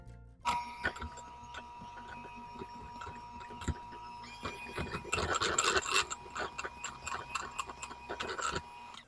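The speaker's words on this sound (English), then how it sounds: "I'm going to grab a spatula and then I'm going to scrape off the edges of the bowl" A spatula scrapes the sides of a mixing bowl holding whipped cream cheese, making steady rasping strokes and knocks close up that grow busier and louder partway through.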